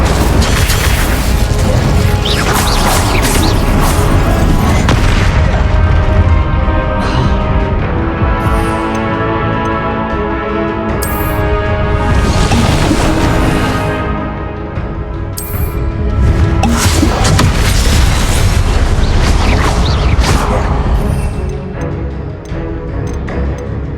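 Fire and blast spells exploding in the wizarding game Hogwarts Legacy, a loud, continuous run of booms and crashes with swelling magical whooshes and repeated impacts throughout.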